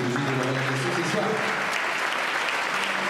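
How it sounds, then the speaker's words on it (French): Applause from the audience at the Miss Saône-et-Loire 2014 pageant: steady, dense clapping that fills the whole stretch, with some voices mixed in over the crowd. "on peut les applaudir bien fort"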